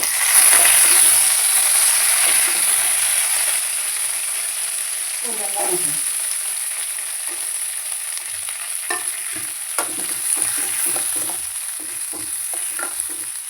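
Garlic, curry leaves and onion sauté in a hot pan with a continuous sizzle and scattered clinks and scrapes of a spoon against the metal. Occasional soft voice sounds sit underneath.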